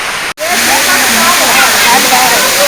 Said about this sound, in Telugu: జలపాతం హోరు